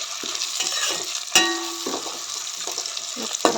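Onions frying in oil in a home kitchen pan, a steady soft sizzle with brief stirring clatters and a short tonal squeak partway through, close and moderately loud with no talk.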